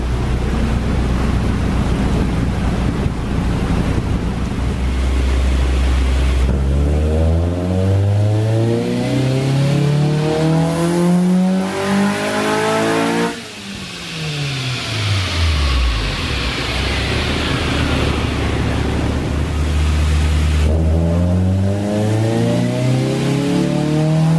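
A swapped Honda B18C Type R engine in a 2000 Civic Si EM1 revs hard through several sweeps. It climbs, drops and climbs again, loud and close, with no talking.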